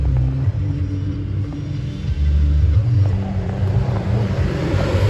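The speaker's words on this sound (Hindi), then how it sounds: "धर्मशाला में अभी ट्रैफिक लगा हुआ है थोड़ा सा" Low traffic rumble in Dharamshala, heard from inside a vehicle moving slowly in a jam, with a steady engine drone and occasional surges, no voices.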